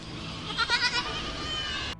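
Goats bleating, a short wavering call rising above a steady outdoor hiss, mid-distance and moderately loud, with no talking.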